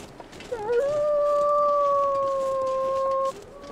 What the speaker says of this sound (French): J'ai entendu un loup gueuler.